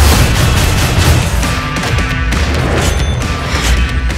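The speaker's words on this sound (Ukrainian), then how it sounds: "Увага! Зараз буде салют!" A fireworks salute bursting in a 2013 action film trailer: a dense, loud wall of booms and crackling blasts that runs continuously throughout.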